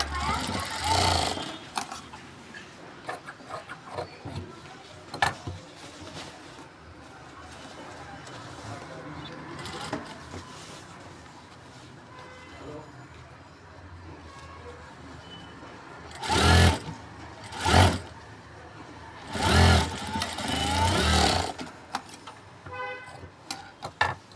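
A sewing machine stitches a stand collar onto a kurti in short bursts, with quiet stretches between runs, while pigeons coo in the background and a voice talks now and then.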